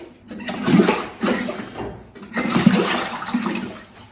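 Water waves in an experimental tank wash against coastal plants in two rolling surges, each a broad, close swash that rises, holds and recedes, with no voices.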